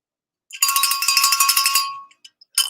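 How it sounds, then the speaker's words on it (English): A bell rung during a live online broadcast, a rapid bright jingling ring lasting about a second and a half, then fading, followed by a couple of light clinks and a short second ring, with no speech. "All right, the bell's been rung."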